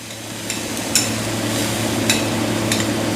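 Onion mixture frying in hot oil in a pan gives a steady, close sizzle with a low background hum and a few sharp clicks from the utensils.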